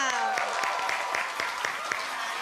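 Studio audience applause on a television variety show, a steady round of clapping with regular sharp claps, partly layered under music and a voice.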